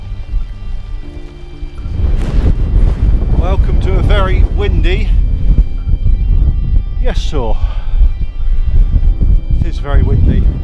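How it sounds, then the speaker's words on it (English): Strong wind buffets the microphone on open Dartmoor moorland during a freezing wild camp, a constant low roar running the whole time while people talk over it. "very windy"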